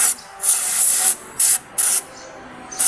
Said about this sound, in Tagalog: Ngayon, linisin ng brake cleaner.